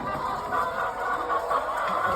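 A large flock of chickens clucks inside a big coop, forming a steady, busy chorus of overlapping calls at close range with no voices.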